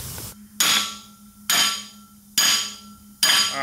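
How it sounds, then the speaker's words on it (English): Four loud metallic hammer blows, evenly spaced about a second apart, strike a Honda CB350F engine cylinder sleeve, each ringing briefly before the next, close by. "After much hammering and stuff, we've got success."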